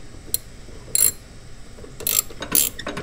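Wrench tightening a bolt on the steering of a riding lawn mower, a few short, close ratcheting clicks in separate bursts over a quiet background.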